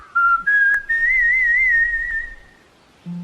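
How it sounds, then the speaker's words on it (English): A man whistles a short, rising melodic tune alone in a quiet setting, sliding between sustained notes for about two seconds before fading out. "He began to whistle."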